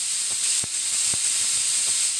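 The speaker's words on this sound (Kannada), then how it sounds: "ಆಮೇಲೆ ನೀರು ಹಾಕಿ ವಿಸಲ್ ಹಾಕಿಸಿ." A pressure cooker holding lentils and chopped vegetables for sambar releases steam with a continuous, bright hiss, broken by a few faint soft knocks underneath.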